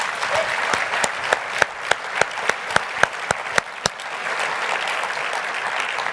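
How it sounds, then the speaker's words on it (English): An audience at an association address gives a sustained round of applause, a steady wash of many hands with a nearby clapper's sharp, evenly spaced claps standing out in the middle before fading back into the crowd. "Let's give Ed a round of applause."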